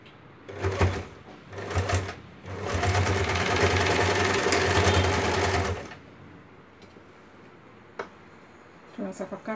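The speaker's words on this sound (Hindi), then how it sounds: "स्टिचिंग करेंगे" A sewing machine stitches a kali salwar in bursts: two short runs, then a longer steady whirring stretch of about three seconds before stopping, with faint handling clicks afterwards.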